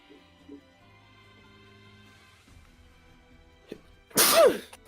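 A sharp, loud sneeze bursts out near the end, close and alone after a quiet stretch with faint background murmur at a tabletop game session.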